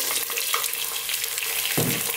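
Onion frying in oil infused with spices, a loud close sizzle throughout with a brief burst of louder crackle near the end, and no talking.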